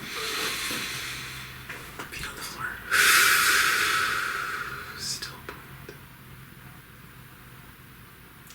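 A single deep, slow breath, heard as a long airy hiss in the middle of the clip, with soft speech before and after.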